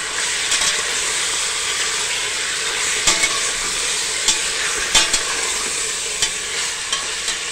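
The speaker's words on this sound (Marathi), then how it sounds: "आता आपण मटण टाकतो। मटण पण आपल्याला परतून घ्यायचं।" Mutton pieces sautéing in a pan with browned onion, ginger-garlic and garam masala, giving a steady close sizzle with a few sharp clicks of stirring.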